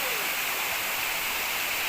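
Kuttupatti waterfall pours in a steady, loud hiss of rushing water, a dense unbroken roar filling the whole stretch.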